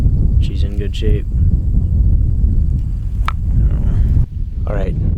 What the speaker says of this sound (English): it's raining, crappy and windy